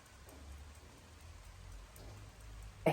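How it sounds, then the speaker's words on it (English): Rain falls steadily outdoors as a soft, even patter and hiss, with a brief louder thump at the very end. "it started raining"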